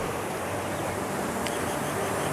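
A waterfall at Kohala in Muzaffarabad, Kashmir, near a hydro power house, roars as a steady, dense broadband wash with no breaks, heard from close range.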